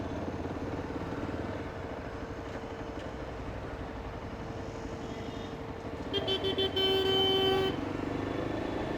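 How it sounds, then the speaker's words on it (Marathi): Vehicle horns honk in traffic during a bike ride, a short clear toot rising above the steady hum of engines and road noise near the end. "नुसतं हॉर्न वाजत राहते"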